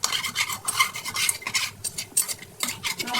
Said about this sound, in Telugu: కొంచెం మెల్లగా ఇట్లా బాగా ఫ్రై అయ్యే వరకు ఫ్రై చేసుకోండి